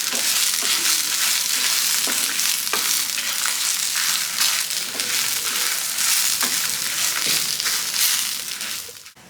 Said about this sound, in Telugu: కరివేపాకు ఉన్న తడంతా కూడా పోయేలాగా వీటిని మంచిగా ఫ్రై చేసుకోవాలి